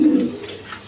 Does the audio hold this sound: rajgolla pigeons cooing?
yes